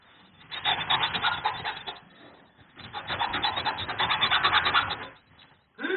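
A tough board is sawn through in two long bursts of rough, rasping strokes, close and moderately loud, separated by a short pause, with a faint clatter at the end.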